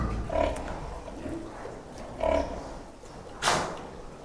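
Sows on a pig farm, bred to a Yorkshire boar, grunt and oink close by in three separate bursts amid steady barn background noise, with no talk.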